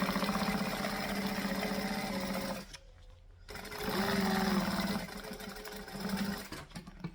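A sewing machine back stitching through fabric for a purse pattern, its fast mechanical chatter running in bursts with a brief pause mid-way before stitching resumes, close and distinct.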